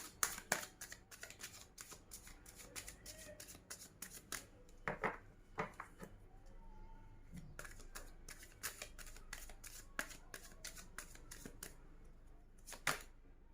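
Tarot cards are shuffled and handled close up at low volume, with quick bursts of riffling flicks and card taps coming in irregular runs and short pauses between them.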